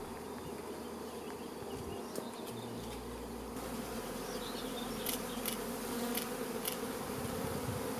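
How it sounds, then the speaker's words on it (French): Honey bees buzz steadily around wooden hives, a dense, continuous hum of many insects close by, with a few brief louder passes of single bees near the end and no voices. "les apiculteurs aiguillent les abeilles pour se loger dans les ruches"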